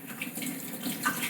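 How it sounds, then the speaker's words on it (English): A kitchen tap runs steadily while hands are washed before mincing meat, giving a brief, moderately loud broadband rush of water with a few small splashes and no talking. "I'll wash my hands"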